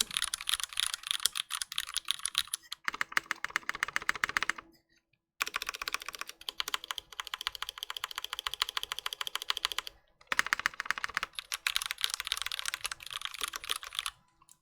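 Fast, close keystrokes from a Cycle 8 prototype mechanical keyboard with vintage Cherry MX Black switches, recorded without noise cancelling, run in long bursts broken by two short silent pauses.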